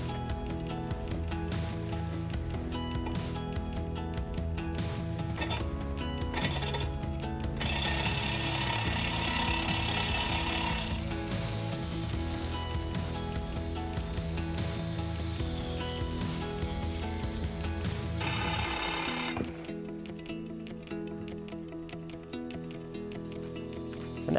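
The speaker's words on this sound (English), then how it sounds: "that's how you get a good, clean, square cut using the Sawzall from Milwaukee" A Milwaukee Sawzall reciprocating saw cuts through cast iron pipe with a sustained grinding, rasping buzz. The sound holds for about twenty seconds and then stops abruptly, leaving quieter background noise.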